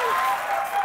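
A conference audience at a developer talk breaks into brief applause, a short wash of clapping with a faint voice over it.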